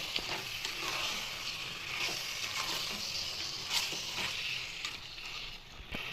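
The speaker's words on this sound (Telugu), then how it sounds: "మటన్ వేసుకొని కూడా ఇలా బాగా కలుపుకోవాలి." Mutton frying in a pot for dum biryani, stirred and mixed, giving a steady close sizzle with repeated scraping strokes of a spoon throughout, no talking.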